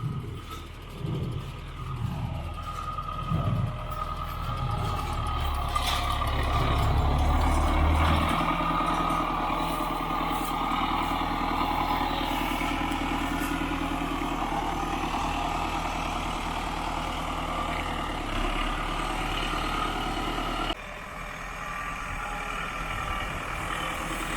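A new MTZ-892.2 tractor runs a Sipma Z-224-1 baler with a steady low engine drone and mechanical rattling, alone with no talk, holding fairly even throughout and changing tone near the end.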